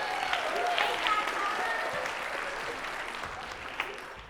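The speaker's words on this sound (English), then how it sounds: "One more round of applause." Audience applause at a middle school jazz band winter concert, a dense, steady wash of clapping from a crowd filling the whole stretch, with a few brighter claps standing out.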